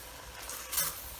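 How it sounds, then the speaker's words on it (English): Textured vegetable protein and garlic are stirred into a sizzling pan, a brief burst of hiss and frying with one louder scrape of the spoon, close up and with no voices. "Stir that in"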